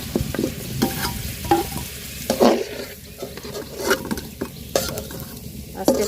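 New potatoes sizzle and fry in a pan while a utensil stirs them in repeated scraping strokes, close and steady with brief louder clatters.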